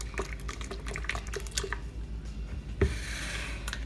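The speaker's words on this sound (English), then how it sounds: "I'm going to use a fine mesh strainer to catch all the thick pieces." Homemade tamarind juice (agua de tamarindo) is poured through a fine mesh strainer, a close, soft splashing and trickling with scattered drips and a brief louder slosh near the end.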